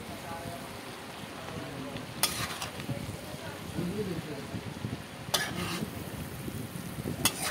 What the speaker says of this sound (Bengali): এখন চাউমিনটাকে ঢেলে দেওয়া হয়েছে, এখন সব একসাথে ম্যারিনেট করা হবে মশলার সাথে সব একসাথে